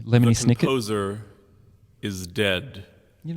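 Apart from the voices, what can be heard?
None of the usual background noises is heard.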